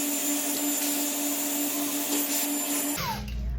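Handheld hair dryer blowing steadily on extension-filled hair during a home blow dry, a loud continuous whooshing motor drone that cuts off abruptly near the end.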